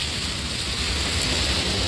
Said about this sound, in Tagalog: Ayan, nandito ako sa labas, umuulan, grabe.